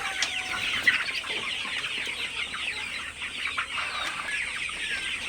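Sonali super hybrid chickens in a poultry shed at evening make a steady, faint chorus of overlapping clucks and chirps from many birds at once, with no talking.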